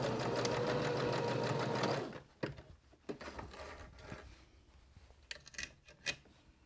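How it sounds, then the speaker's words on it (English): A sewing machine stitches a very narrow seam with back stitching on a beginner's portable tic-tac-toe game project, running steadily and loud for about two seconds before stopping. Soft handling noises and taps follow. "I'm going to stitch across it, back stitch, so to secure it really well."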